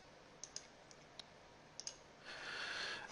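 A computer mouse clicks at a desk while shapes are traced with the curvature tool in Adobe Illustrator, giving about eight faint sharp clicks, some in quick pairs, followed by a brief soft hiss.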